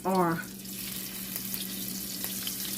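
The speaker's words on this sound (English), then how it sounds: "I just want to get a little sear on them" Already-cooked shrimp searing in a hot pan for Southern-style shrimp and grits, a steady close hissing sizzle that holds throughout after a brief voice at the very start.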